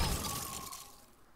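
A crackling, shattering freeze spell effect from Hearthstone, a bright icy burst at the start that rings briefly and trails off within a second.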